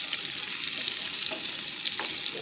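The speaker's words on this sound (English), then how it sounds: "We're going to cook this up and keep stirring like this and give it some love and some attention" Mushroom risotto rice stirred in a hot pan, a bright constant sizzle with a few scraping strokes of a spoon, close and fairly loud.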